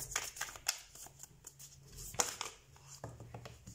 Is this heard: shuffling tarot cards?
yes